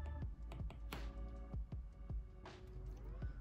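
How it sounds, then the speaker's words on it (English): Someone types on a Logitech K380 keyboard with quiet, close, irregular clicks, roughly a dozen keystrokes in a loose rhythm with no talking. "For typing, I just use this Logitech K380 keyboard"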